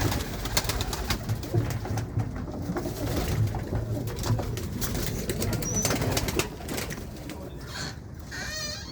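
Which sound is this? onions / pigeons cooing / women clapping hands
pigeons cooing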